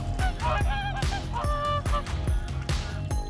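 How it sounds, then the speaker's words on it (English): Several swans calling in repeated honking, goose-like bursts, loud and close, each call rising and falling in a steady, slightly overlapping rhythm with no talk. "Swans are usually territorial birds."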